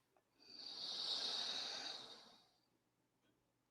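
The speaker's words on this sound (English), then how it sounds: "Keep the attention to the breathing." A slow, steady in-breath drawn through the nose during guided breathing meditation, close and soft, swelling for about two seconds and then fading, with no talking.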